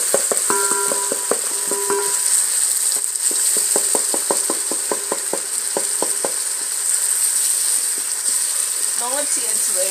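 Tomatoes simmer and sizzle in a pot over a village cooking fire, a steady hiss under a run of rhythmic clinks and scrapes as the pot is stirred, with faint clattering toward the end.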